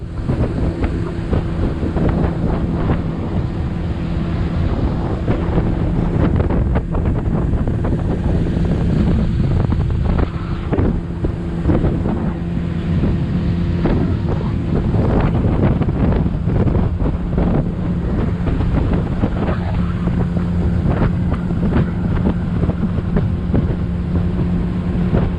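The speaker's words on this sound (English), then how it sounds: "So we actually had to take a boat to get here" Steady engine drone and rushing water with heavy wind buffeting the microphone, as from a moving boat, continuous throughout with no talking.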